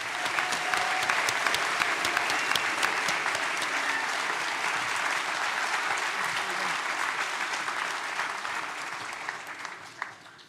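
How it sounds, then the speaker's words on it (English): Sustained applause from a seated audience at a university graduation ceremony in a town hall, a loud continuous wash of clapping that holds steady for about ten seconds before tapering off at the end. "one huge round of applause again"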